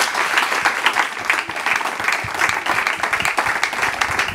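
Steady audience applause greeting a speaker at a school event, a dense, continuous patter of many hands clapping at an even level throughout.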